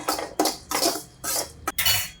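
Grated coconut being roasted in a pan for a curry, stirred with a spatula. Five or six close, loud scraping strokes come in a quick uneven rhythm, with brief pauses between them.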